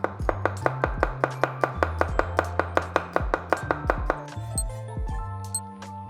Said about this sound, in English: Next will be 2 cloves of garlic. We're just gonna finely slice these as well.